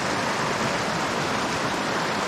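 Creek water flows steadily through dense riparian vegetation on a still, sunny day, making a continuous broadband rushing wash that stays close and even, with no voices.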